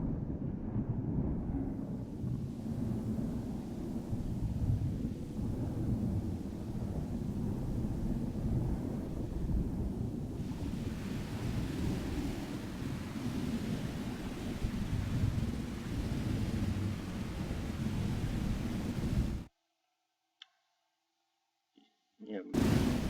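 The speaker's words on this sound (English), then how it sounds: "kind of right on top of you sounding thunder" A steady thunderstorm rumble synthesized in Native Instruments Massive, with overhead thunder, loud and continuous, cutting out abruptly near the end before briefly resuming.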